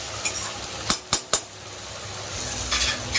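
Spice paste for a fatty goat mutton curry sizzles steadily in a pan while a spoon clinks and scrapes against the metal in a few sharp knocks.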